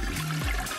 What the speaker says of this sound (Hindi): क्या टॉयलेट में फ्लश करना इतना मुश्किल है?